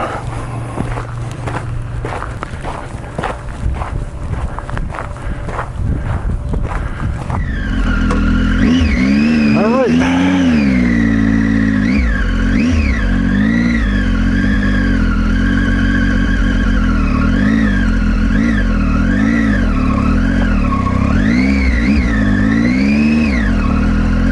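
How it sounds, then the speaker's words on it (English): A motorbike starting off on a dirt road at an Arizona ghost town in the Weaver Mining District, loud and close, with crunching footsteps first, then a steady engine drone with rising and falling revs as it rides away. "Nothing left but to wander back to the bike"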